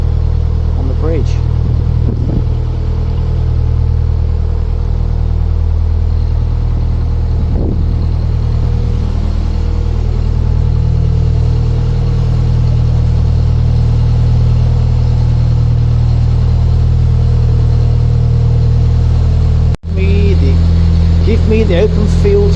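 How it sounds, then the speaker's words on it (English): A narrowboat engine chugs steadily on the Huddersfield Narrow Canal, a loud, continuous low drone with occasional shifts, while someone talks over it intermittently. "the engine's making all kinds of weird noises because it keeps catching things"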